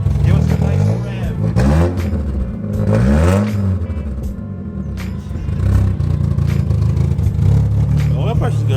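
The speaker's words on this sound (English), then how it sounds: "Give us a nice rev" A Mazda Miata engine, due for teardown, revs up and down in several rising and falling sweeps, close and fairly loud, with someone talking over parts of it.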